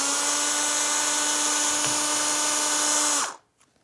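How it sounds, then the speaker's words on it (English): A power drill bores through the top surface of a PVC pipe held in a vise, giving a loud, steady whine with a strong tonal hum for about three seconds before stopping abruptly, with no talk. "drill that through just the top surface of the pipe"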